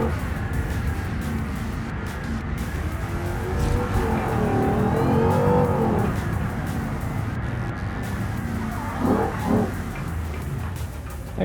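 Car in the BeamNG driving game, engine droning steadily with a swelling, pitch-shifting whoosh as a vehicle closes in and passes near the middle, then a second brief engine surge later, no talking.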